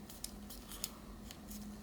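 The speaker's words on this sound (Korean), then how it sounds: "가위로 자르고 반접게 하면 끝." Scissors cut paper while a paper robot is folded, a series of quiet crisp snips at an irregular pace over a faint steady hum.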